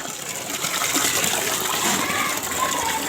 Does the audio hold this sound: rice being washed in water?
yes